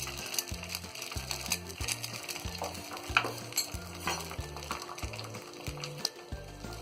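Beaten egg poured onto a hot oiled tawa sizzles steadily, a crackling fry that sits low in the mix under faint scraping sounds, with no talk.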